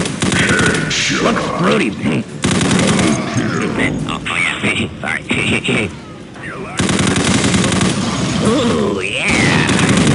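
Heavy machine-gun bursts and gunshots from ballistic weapons in an Unreal Tournament 2004 deathmatch roar loud and near in rapid fire, with explosive booms and voices talking over the action.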